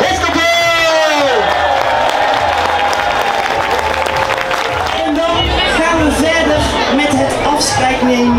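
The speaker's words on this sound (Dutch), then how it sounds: "Mag ik van heel Boerendorps publiek met een geweldig applaus voor de hefkapel!" A big carnival crowd in Boemeldonck gives loud, sustained applause with whoops and cheers for the band, a dense steady roar of clapping mixed with shouting voices.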